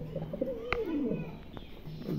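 A pair of Mondain pigeons gives a single soft, gliding coo close by, quiet against a faint background.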